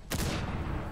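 A single loud, unsuppressed gunshot in Rainbow Six Siege, a sharp close crack that decays quickly into a short rumbling tail.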